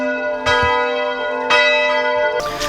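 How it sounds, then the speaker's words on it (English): Church bells ring out in a Vietnamese village near Nha Trang, with two clear strikes whose tones linger and overlap, then a third begins, all resonant and fairly close, with no voices. "I think it's time for church because the bells are chiming"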